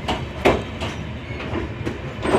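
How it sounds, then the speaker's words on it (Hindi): A train rolling into Shri Mata Vaishno Devi Katra railway station makes a steady, rhythmic clickety-clack of wheels over rail joints. Each beat is loud and close within a rumbling carriage drone. "फाइनली हमारी गाड़ी पहुंचाई है श्री माता वैष्णो देवी कटरा रेलवे स्टेशन पर।"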